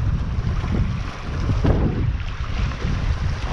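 Steady wind gusts roar across an open lake shore, a loud continuous rush with buffeting against the microphone and faint lapping water beneath, no voices present.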